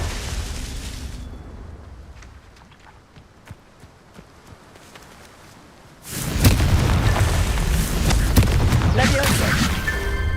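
A Confringo spell blast in Hogwarts Legacy bursts in suddenly, a loud, dense roar that hangs on at full strength after a quieter stretch of scattered taps and thuds.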